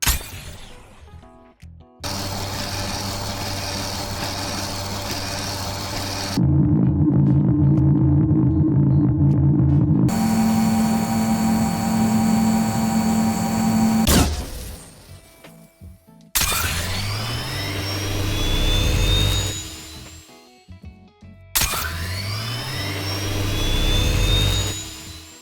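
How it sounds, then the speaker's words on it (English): Weapon sound effects for the Sawgun SMG in a video game: loud, sustained whirring drones and rising, vacuum-like charging whines, played in several separate bursts with short silences between them. "it definitely sounds like it has some saw blade sounds to it, but in the charging up sounds, sometimes it actually kind of just sounds like a vacuum"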